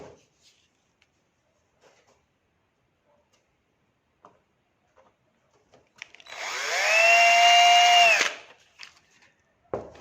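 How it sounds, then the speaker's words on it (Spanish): A power drill bores a hole in a wooden kayak deck, a steady whining run of about two seconds rising and falling, heard close after quiet light handling clicks, with no talking. "Y ahora voy a perforar para garantizar que esta zona, que es un poquito delicada,"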